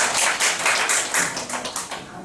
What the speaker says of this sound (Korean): 박수 한번 세게 주시죠